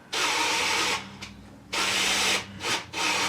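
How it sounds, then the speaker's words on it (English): A cordless drill runs in reverse, spinning the oil pump to prime engine oil pressure on a 1968 Triumph TR250 under restoration, in three loud, close bursts of whirring motor noise separated by short pauses. "drive-in gauge with the drill on reverse, and we're going to see if we can get oil pressure now."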